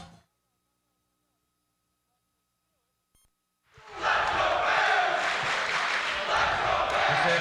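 A crowd at a Saturday afternoon high school basketball game between East Brunswick and St. Joseph's bursts into a loud, sustained roar after several seconds of near silence, the noise staying steady to the end.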